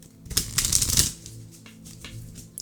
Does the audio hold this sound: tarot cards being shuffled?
yes